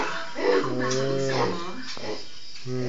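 A person mimics a dog with short yips and whimpering barks, a voice imitating a dog amid casual talk and nearby chatter.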